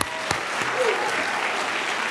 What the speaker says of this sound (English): Can we give another clap for that?